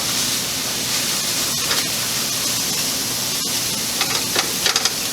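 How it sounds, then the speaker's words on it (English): Vegetables sautéing and steaming in a pan after about two tablespoons of water are added, a steady broadband hiss and sizzle running throughout with a few brief crackles near the end, no talking. "I added about 2 tablespoons of water so that we will saute and kind of steam these vegetables at the same time"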